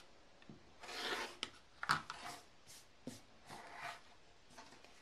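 A rotary trimmer and ruler cleaning up the quarter-inch edge of a quilt block, giving faint scattered rubbing and cutting strokes with brief papery rasps, close and quiet with no talk.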